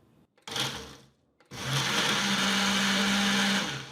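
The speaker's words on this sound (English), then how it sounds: "Less than a minute of blending gives you a smooth drink." A countertop single-serve blender runs hard on a frozen mango and pineapple smoothie, first in a short loud burst, then after a brief pause in a long, steady, close-up roar with a high whine that holds to the end.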